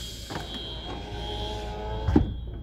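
An electric power window on a 2011 Toyota Velfire 2.4 automatic hums as it runs, a steady motor whine close by inside the car, ending with a soft thump.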